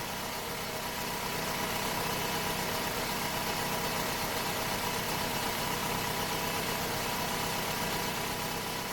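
A Toyota RAV4 engine runs steadily with fuel cleaner added, a continuous close idle hum with faint knocking vibration and no talk.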